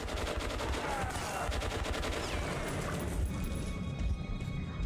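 Rapid gunfire in the video game Metro 2033 Redux, dense bursts of shots over a loud rumbling game soundscape, continuous and close with no pauses.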